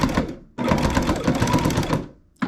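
A Baby Lock Jazz II sewing machine back stitching quilt binding into an inside corner, a loud fast motor chatter running in two bursts with a brief pause between them, close up and with no voices.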